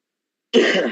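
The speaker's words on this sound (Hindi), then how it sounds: "सर इधर तो अभी थोड़ा खांसी और बाकी है" A single short, sharp cough breaks the silence, close and loud.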